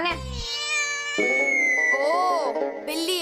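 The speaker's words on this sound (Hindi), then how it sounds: "बिल्ली की आवाज थी, वही होगी।" A cat meows several times in drawn-out, wavering cries, close and fairly loud, with a brief low thump at the start.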